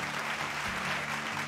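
Applause from a live audience for a contestant at the Miss PTC Punjabi beauty pageant, a steady dense wash of clapping with a faint hum running beneath it.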